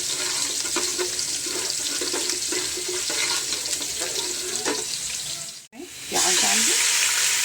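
Sliced onions fry in a pan for besan ka baily, giving a steady, loud sizzle throughout with a brief pause near the end before the crackling resumes.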